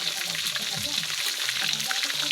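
Pieces of chicken fry in a pan, a dense continuous sizzle and crackle held at an even level for a couple of seconds, close up, with faint low murmuring underneath.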